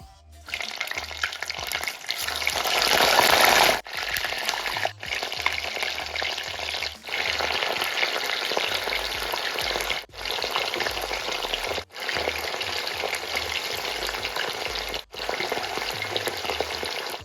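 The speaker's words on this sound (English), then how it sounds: "The oil is at the right temperature now, so I'm going to add the yam in." Yam pieces frying in hot oil, seasoned with onions, for Togolese fried yam, producing a loud, continuous sizzle with brief breaks and occasional stirring throughout.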